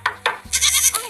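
A cartoon goat bleats in a few short, nasal calls, loud and close, with a brief thud partway through.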